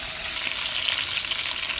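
Chettinad mutton biryani gravy sizzles hard in hot oil with ginger, cinnamon and cloves, a bright, close, continuous frying hiss with faint stirring crackle throughout.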